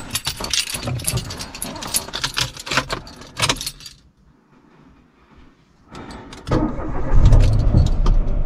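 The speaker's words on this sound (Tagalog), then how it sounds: "So, try na natin i-start yung ating sasakyan." Keys jangle close by, then after a brief quiet pause a car engine cranks and catches on a jump-started battery, settling into a loud idle rumble.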